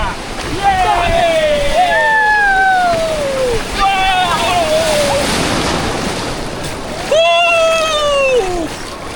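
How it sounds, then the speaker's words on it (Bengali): Sea waves surge and wash steadily along Bakkhali beach, a broad roar of surf with gusts of wind across the microphone, heard beneath someone talking throughout. "বেশ দেখুন জাস্ট ঢেউগুলো দেখুন জাস্ট, কি লেভেলের ঢেউ"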